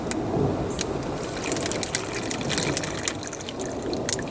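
Water trickles and splashes steadily as it is poured from a canteen into an MRE container, with a soft continuous gurgle lasting a few seconds.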